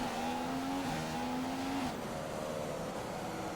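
A McLaren Honda Formula One car engine in a racing game at Singapore whines at high, steady pitch, then briefly drops and falls away as the car brakes or shifts, loud and close with no speech.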